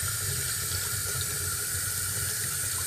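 Water runs steadily during wet-sanding of a yellowed BMW 5 Series or 3 Series headlight lens, a continuous close splashing hiss with no talking.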